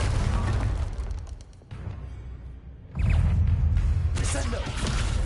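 In the Hogwarts Legacy video game, the Confringo fire spell explodes with heavy booming blasts and rumbling bursts, loud and close, separated by a short quieter gap.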